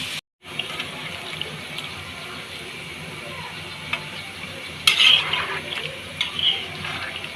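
Water is poured steadily into a pot of simmering meat on the stove, a continuous rushing wash that swells briefly toward the end, with faint frying sizzle beneath.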